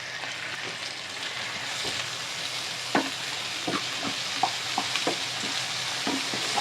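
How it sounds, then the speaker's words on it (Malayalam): Two medium-sized tomatoes fry and get stirred with onions and potatoes in a pan, a steady sizzle broken by a run of sharp spatula scrapes and taps, close by and with no talk. "ഇനി ഇതിലേക്ക് ഞാൻ എടുത്തു വെച്ചിരിക്കുന്ന ടൊമാറ്റോ ഇടുകയാണ്"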